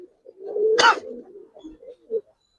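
Giribaz pigeons give a few soft, close coos, one louder burst in the middle and quieter murmurs around it.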